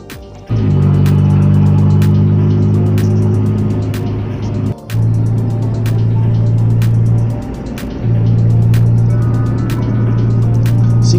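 A car climbs a three-lane uphill stretch of the Cipularang toll road, its engine droning loud and steady, dipping briefly twice as it shifts, with truck traffic around.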